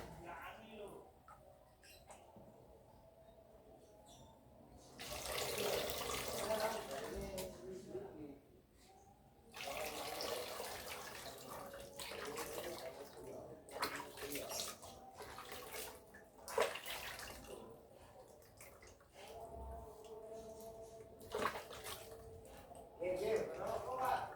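Water poured and splashed for soaking a freshly repotted Aglaonema Wulandari plant, with bursts of running and sloshing water between quieter gaps, heard up close and indoors.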